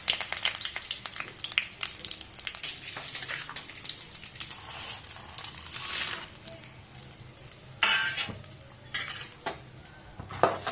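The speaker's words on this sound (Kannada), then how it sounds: "ಸ್ಟವನ್ನು ಲೋ ಫ್ಲೇಮ್ ಮಾಡಿ ಎಲ್ಲ ಫ್ರೈ ಮಾಡ್ಕೊಳ್ಳೋಣ" Chana dal, urad dal, cumin and curry leaves frying in hot oil as a tempering for tamarind chitranna, a steady crackling sizzle broken by sharp clinks and scrapes of a spoon stirring the pan, no voices.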